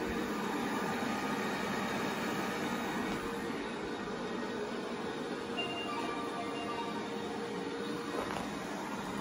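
A Proscenic M7 Pro robot vacuum runs on quiet suction mode, giving a steady, even whir and broadband hum throughout with no pauses, moderately loud and close.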